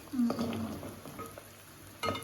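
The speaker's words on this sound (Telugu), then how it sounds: "పచ్చివాసన పోయేందుకు బాగా వేయించుకోవాలి." Spice paste for chicken pachadi frying in hot oil, giving a soft crackle and sizzle with light stirring scrapes, faint and close with small bursts near the start and end.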